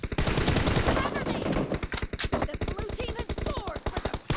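Rapid, loud gunfire from a 2v2 tournament match in a shooting video game rattles in quick bursts, the shots tightly spaced and near, with players talking over them.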